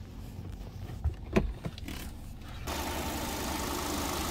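A 2017 Hyundai Sonata with a gas-fuelled engine runs at idle. Its quiet, steady hum is broken by a few soft knocks early on, then becomes a fuller, even broadband drone that continues to the end.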